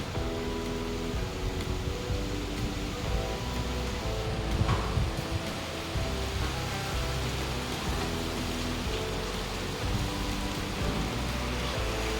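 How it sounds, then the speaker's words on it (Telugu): Steady evening rain falling under dark clouds, a continuous even hiss with a constant level and no voices. "నల్లగా మబ్బులు వేసేసి వర్షం అయితే స్టార్ట్ అయింది"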